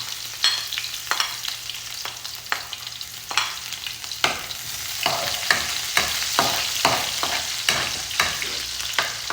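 Chopped onion sautéing in hot oil in a pan, steady sizzling with repeated close scraping strokes of a spatula in an irregular rhythm, no talk over it.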